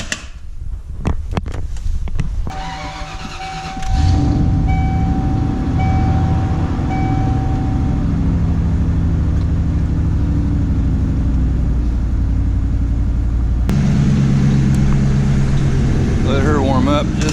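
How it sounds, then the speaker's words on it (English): A farm truck's diesel engine starting and then idling at a steady low rumble as it warms up during a soybean harvest, close and loud after a few clicks and bangs, with a shift in tone near the end. "And get the truck fired up. Let it warm up just a little bit,"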